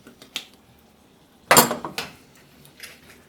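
Zucchini, tomato and fettuccine pasta with Parmesan and butter stirred in a pan, heard as a few sharp clinks and scrapes of a utensil against the pan, one louder clatter in the middle, otherwise quiet.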